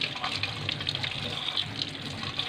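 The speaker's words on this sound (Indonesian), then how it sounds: "kita membasuh tangan dan kita basuh dari ujung jari sampai ke siku" Water runs steadily from a tap into a sink during a clinical hand-washing routine, a close continuous splashing hiss with faint voices in the background.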